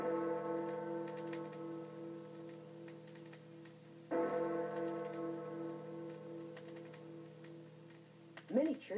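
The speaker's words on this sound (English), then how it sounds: "In England, there is a famous clock called Big Ben." Big Ben, the famous clock in England, chimes with two deep, ringing bell strikes about four seconds apart, each tone sustaining and slowly decaying, followed by a brief scuffing sound at the end.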